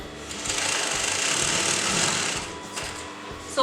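A domestic sewing machine runs steadily while stitching the fold of a kurta neckline, a loud continuous motor whir with rapid needle chatter that eases off near the end.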